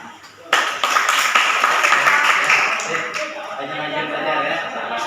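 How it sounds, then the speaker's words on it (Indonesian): A student audience at an Indonesian campus seminar breaks into clapping after a brief quiet moment. The applause is sharp and lively, then thins slightly, with voices mixed in. "Ya, tepuk tangan."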